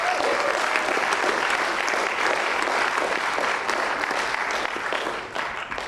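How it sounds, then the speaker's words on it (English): Sustained applause from a conference audience welcoming a panelist at a neo-soul music panel, dense steady clapping filling the room for several seconds before thinning slightly near the end. "We can give him a round of applause"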